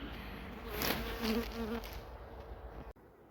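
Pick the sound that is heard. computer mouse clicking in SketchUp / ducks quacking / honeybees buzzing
honeybees buzzing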